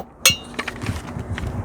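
Wrench working the spare tire bolt on a 2020 Toyota Avalon, a sharp metallic clink followed by a few softer ratcheting clicks and rattles, close and brief.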